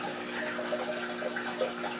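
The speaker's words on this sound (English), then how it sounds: "the water spouting into the tank" Water spouts and splashes steadily into an aquarium holding Oscar fish, a continuous moderate gush over a constant mechanical hum, with no talk.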